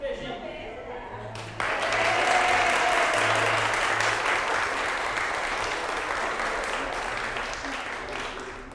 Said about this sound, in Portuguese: Vai ficar assim, as palmas só?